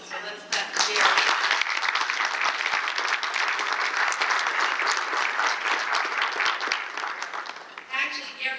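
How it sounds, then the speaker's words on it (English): At a past presidents' luncheon, an audience claps loudly and steadily for several seconds. The clapping swells quickly, holds dense, then tapers off, with a few voices at the end. "So let's clap for Gary."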